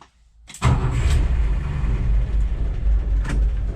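A car pulls away from a home and climbs a small ramp toward a gate, its engine starting with a sharp thump and then running at a steady, loud rumble nearby.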